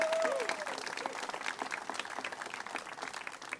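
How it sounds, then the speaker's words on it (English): A crowd gathered outdoors for a Pride Month flag raising in St. Pete, Florida claps steadily, the dense applause tapering slightly toward the end, with a brief whistle-like tone at the start. "Yes, please clap."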